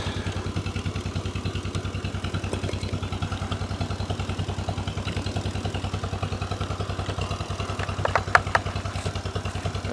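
A 1950 John Deere Model M tractor engine runs close by with a steady, rapid chugging pulse throughout, joined by a few brief metallic clicks near the end.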